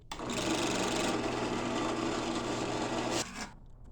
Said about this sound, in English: I'm going to drill a hole right there.